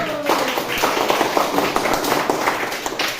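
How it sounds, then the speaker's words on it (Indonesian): A classroom of students clapping hands together, a steady run of many quick overlapping claps at close range filling the whole stretch, with no talk over it. "Oke, tepuk tangan dulu."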